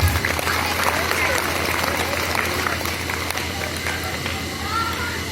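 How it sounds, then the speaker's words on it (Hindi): Audience at a Hindi senior-citizens' festival gathering claps steadily in a dense, sustained wash of applause, with crowd noise and voices mixed underneath throughout. "एक बार तालियां बजाइए"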